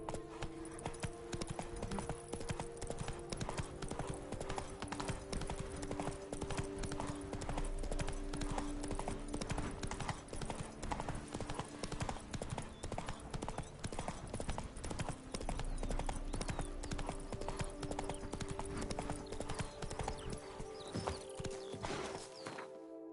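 Hooves of Geralt's horse Roach in The Witcher 3: Blood and Wine clip-clop in a steady walking rhythm, close and continuous over a soft game ambience, with no talk.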